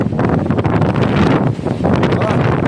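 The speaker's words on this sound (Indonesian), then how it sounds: "Dorong maju anginnya, mendorong saya untuk maju." Strong wind during a storm high on the Arjuno-Welirang mountain trail, buffeting the microphone in loud, continuous roaring gusts with brief dips.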